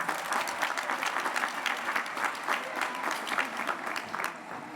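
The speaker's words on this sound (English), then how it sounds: "let's give them a round of applause as well" Sustained applause from a graduation crowd at an evening high school ceremony, a dense steady patter of many hands clapping that holds evenly without a break.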